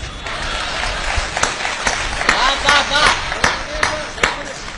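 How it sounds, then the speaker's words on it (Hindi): An audience at a Hindi satire recital breaks into applause, a dense crackle of clapping with sharper bursts, mixed with a speaking voice. "और व्यंग पर आपकी तालियां उठेंगी"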